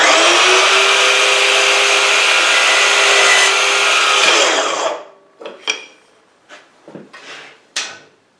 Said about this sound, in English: I'm going to cut the other half of this miter